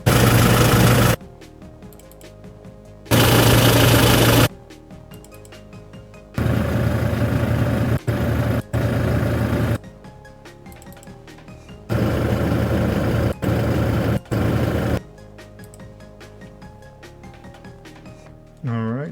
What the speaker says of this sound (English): Let's go with just engine sound effects.